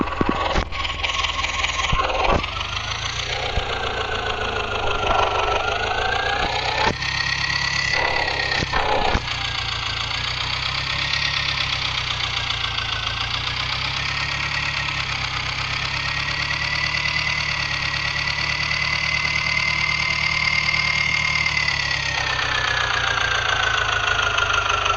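A tractor engine in a tractor driving video game drones continuously at a steady loud pitch, rising and falling slightly as the vehicle labors, with no speech.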